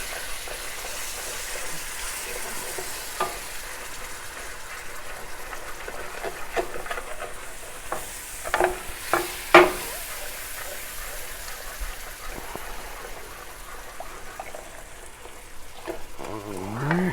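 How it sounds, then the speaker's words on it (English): Cream being stirred into a pan for macaroni and cheese: steady sizzle and scraping stir sounds throughout, with a few louder clinks of the spoon against the pan near the middle, close and continuous with no talking. "Now we're going to add our cream. Stir that in."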